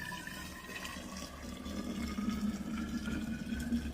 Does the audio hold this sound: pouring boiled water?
yes